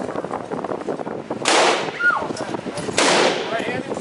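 Two loud .40 caliber pistol shots ring out at an indoor gun store range in Las Vegas, sharp bangs about a second and a half apart over a murmur of background voices.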